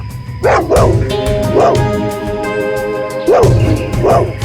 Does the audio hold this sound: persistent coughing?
no